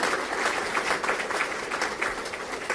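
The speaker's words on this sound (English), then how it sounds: "one more big round of applause for Judy and everybody at the Danville Chamber of Commerce" Dense audience applause at a country club awards evening for the Danville Chamber of Commerce, continuous steady clapping from a crowd with no talk over it.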